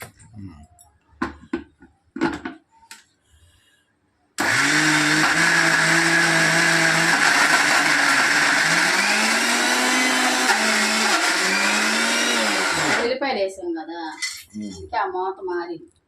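A mixer grinder crushes garlic and tamarind in a loud, steady whirring roar that runs for several seconds and shifts pitch slightly as it works, then stops. Brief clatter and voices come before and after.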